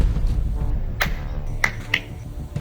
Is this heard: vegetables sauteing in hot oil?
no